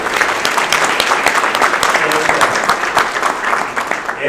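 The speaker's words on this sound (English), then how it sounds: "Let's give him a hand clap, you guys" Applause from a crowd at a county graduation, many hands clapping steadily and loudly throughout, with some voices mixed in.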